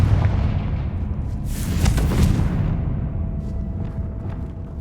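In the video game Hogwarts Legacy, a Confringo spell blast erupts as a loud, booming fiery burst with a bright crackling flare in the middle, trailing off into a rumbling tail amid continuous battle noise.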